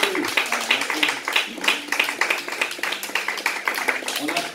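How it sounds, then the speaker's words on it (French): A congregation applauding during a Christian church service, with steady rhythmic clapping from many hands throughout and voices audible over it. "Voilà, on applaudit Dieu."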